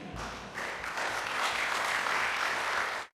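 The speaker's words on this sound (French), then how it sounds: "La salle l'a applaudi." Audience applauding in a hall, a steady bed of many hands clapping at moderate distance, building slightly then cutting off abruptly.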